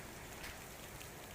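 Steady unseasonal rain falling during strong winds in Rajasthan's Jaipur region, a continuous even patter with no pauses, heard alone without voices.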